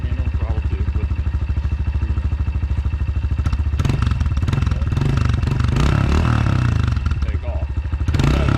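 A dirt bike engine idles with a steady rhythmic putter, then revs up and grows louder as the bike takes off, its tone shifting midway; voices may be mixed in beneath the engine noise.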